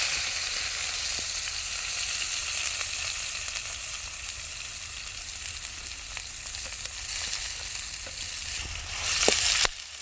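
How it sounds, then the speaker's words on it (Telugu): Green chillies and onion frying with cumin seeds in hot oil in a pan, a steady close sizzle with faint scattered crackles and a brief louder burst of spitting near the end. "వేపుకుందామండి. 10 నిమిషాల పాటు బ్రౌన్ కలర్ వచ్చేంత వరకు."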